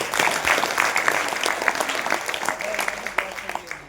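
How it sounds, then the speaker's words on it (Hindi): A crowd at a rural farmers' gathering breaks into sustained clapping during a speech, a dense, steady patter of many hands that stays fairly loud for several seconds, with faint voices mixed in. "बजाओ अपने लिए तालियां।"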